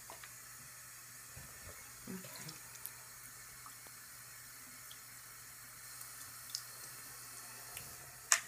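Makeup brushes are rinsed under a running tap in a quiet room, a soft steady trickle of water with faint, occasional drips and light handling taps.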